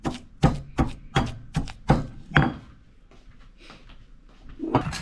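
Pepper and garlic are pounded with sugar, giving six close, evenly spaced heavy thuds followed by quieter scraping and a last knock.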